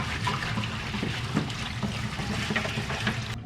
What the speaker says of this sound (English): Just shake off the water a little bit.